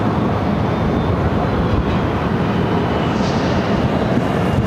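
A departing airliner leaving Phoenix airport for San Francisco produces a steady, loud broadband roar of jet engine noise that holds evenly throughout, with no talk.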